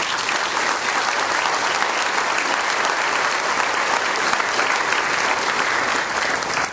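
At a Marine headquarters dedication ceremony in New Orleans, a crowd applauds a construction team with sustained, dense clapping that stays strong and even throughout.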